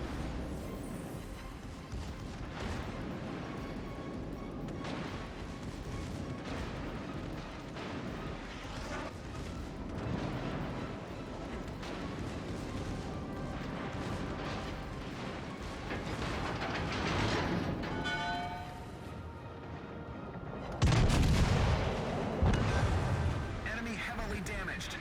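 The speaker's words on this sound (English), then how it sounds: "now they're opening fire" Battleship secondary guns firing during a Bismarck versus New York class clash in World of Warships Legends, dense repeated booms and rumbling blasts layered under steady talk, with a louder burst near the end.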